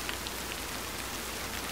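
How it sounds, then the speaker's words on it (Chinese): Steady rain in the horror video game Tsugunohi, a dense, even patter of drops hitting surfaces that stays constant for the short stretch, with no voices. "又下雨了"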